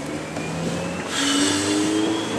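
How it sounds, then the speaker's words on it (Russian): A Daewoo Lanos accelerates away from an intersection, its engine note rising sharply partway through and a higher tone climbing as it pulls off, heard at moderate distance. "Все, Ланос пошел на отрыв"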